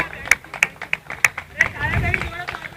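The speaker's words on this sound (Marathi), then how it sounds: "टाळ्या वाजवा प्लीज" A few people clap in a slow, steady rhythm at the prize ceremony of a box cricket tournament, sharp distinct claps close by, with voices talking alongside.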